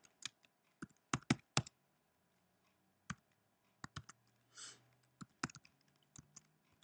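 Close, crisp computer keyboard clicks while HTML link code is typed, coming in irregular bursts of quick keystrokes with short pauses in a quiet room.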